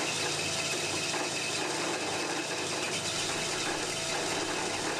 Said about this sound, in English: Turn on the saw.